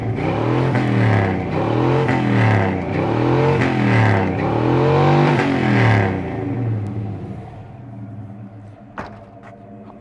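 A GM vehicle's engine revs hard several times in a row, each rise and fall sweeping up and down in a rhythmic pattern, loud and near, then settling into a quieter idle rumble.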